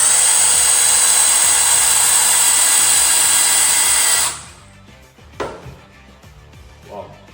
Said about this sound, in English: And now I'm going to put the machine back in speed 1 because we're going to be driving the screw through a knot.